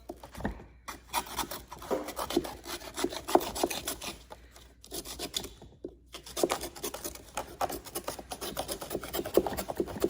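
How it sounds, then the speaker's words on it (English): Razor blade scraping excess material around the edge of a round thrifted home decor piece, a steady close rasping and rubbing with brief breaks, moderately loud and without talk. "Take this razor blade, go around, get that excess off."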